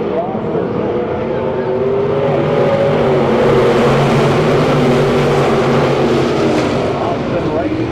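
Thumper-class race cars rolling off in a pack at 81 Speedway, a dense, steady engine drone filling the scene with a slight swell midway, under a track announcer's continuous commentary.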